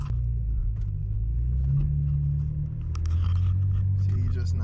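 BMW 335i rear-wheel-drive car rolling slowly along an icy, snowy road, a low, close engine rumble whose pitch shifts as it eases along, with scattered crunching and someone talking over it.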